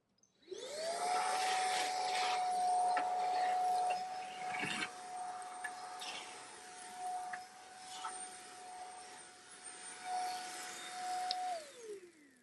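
A cordless vacuum cleaner fitted with a crevice tool runs steadily at close range with a constant motor whine, spinning up at the start and winding down near the end, with no talk over it.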